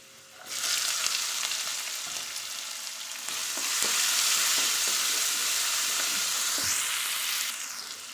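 Small onions, garlic and asafoetida fry in oil in a pan, a steady close sizzle that swells louder midway and holds, with faint stirring clicks underneath.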